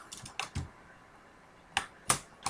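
Keys tapped on a computer keyboard while writing Python code, a few scattered clicks early on, a pause, then several more sharp taps near the end, close and quiet with no talking.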